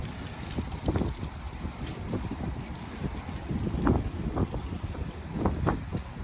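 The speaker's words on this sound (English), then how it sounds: "I guess the wind just comes in this way, and there they go" Wind gusts swirl through dry leaves in a small whirlwind at Woody Creek, heard as a rushing buffeting roar on the microphone with rustling bursts rising and falling throughout.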